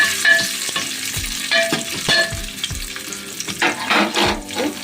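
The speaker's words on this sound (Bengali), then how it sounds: "কাজু কিশমিশ একসাথে দিয়ে দিচ্ছি, এগুলো একটু" Cashews and raisins stir-fried together in a pan, with a steady sizzle and repeated scraping strokes of a spatula at a regular rhythm, close and fairly loud, no talking.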